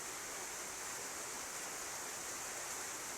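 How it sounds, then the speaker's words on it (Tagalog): Steady, dense rush of water pouring hard, a constant hiss with no breaks or voices. "Ang lakas, ang tulo."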